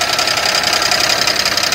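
A car engine with a failing connecting rod knocks steadily, a fast, even metallic tapping riding over a loud, constant engine drone, close up with no voices.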